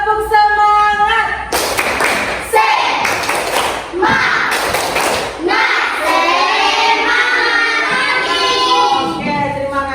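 A class of schoolchildren performs a rhythmic group clap in bursts, loud patterned claps alternating with children's chanting voices throughout.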